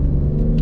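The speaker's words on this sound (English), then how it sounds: "and then the noise on the exhaust" A 2022 Alfa Romeo Stelvio Quadrifoglio exhaust rumbles in a steady, deep low drone, close and fairly loud, heard briefly alone without talk.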